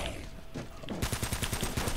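Gunfire in Uncharted: Drake's Fortune empties a full magazine at creatures: scattered shots first, then a rapid run of loud, evenly spaced close reports in quick succession.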